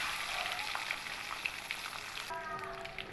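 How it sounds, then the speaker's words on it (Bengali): Eggs fry in oil for a Bengali egg curry (egg kalia), giving a steady close hiss and crackle with no talk. A faint tonal hum joins near the end. "এবার এই ডিমগুলোকে আমি একটু হালকা উল্টো পাল্টে একটু লালচে কালার করে ভেজে নেব"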